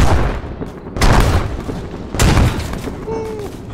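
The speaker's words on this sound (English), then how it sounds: "Mortars." Mortar explosions in an ARMA 3 Star Wars mod battle: two heavy broadband blasts about a second apart, loud and close, with rumbling debris, then a brief whistling tone near the end.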